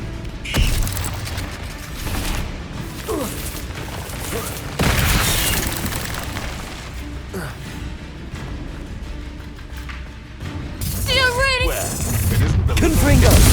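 Spell blasts and explosive booms from Confringo and Bombarda casts in a wizarding combat game, with heavy thuds, crackling impacts and mechanical clanks mixed with shouted voices over a busy battle soundscape.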